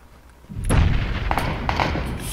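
Gunfire in PUBG Battlegrounds: a heavy, booming shot bursts in loudly after a quiet start, followed by several sharper cracks and pops spread over the next second and a half.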